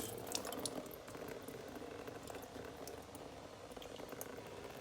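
Coolant drains steadily from a pulled hose on a 2019/2020 BMW S1000RR, a continuous close gurgling, trickling flow of liquid that holds level for the whole stretch with no talk.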